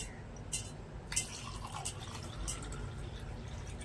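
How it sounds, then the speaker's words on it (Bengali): Water poured into a glass at a home lunch meal, heard as faint, close trickling and dripping with a few brief splashy bursts over quiet background, no talk. "এবারে আমি গেলাসে জল দিয়ে দিচ্ছি"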